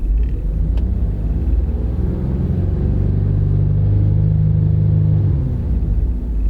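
Car engine running at a steady idle during live-data diagnostics, a loud, low, close rumble with a slight rise in pitch in the middle before settling back down.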